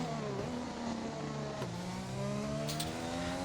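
Race car engine in a racing video game at the Hungary circuit, high whining revs climbing through gears with quick shift drops, steady and fairly faint, without voices.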